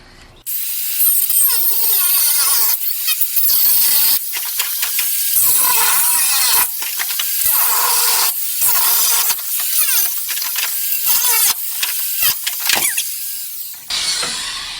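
An angle grinder cuts out the heater channel on a VW Beetle, a loud, harsh, continuous whine broken by short pauses and bursts, close by throughout.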